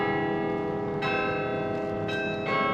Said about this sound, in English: The carillon will still chime each day